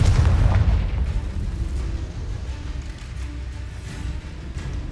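A Confringo blasting curse goes off in Hogwarts Legacy inside the Acromantula cave, a loud low boom at the start that rolls into a sustained rumbling roar. No voices are heard.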